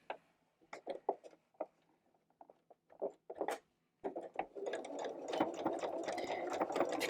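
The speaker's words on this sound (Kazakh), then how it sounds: "Мына 3 сантиметрді осы жерді тігіп жіберу керекпіз." A sewing machine stitching an apron seam, starting with short irregular bursts and stops, then running in one continuous steady whir up close.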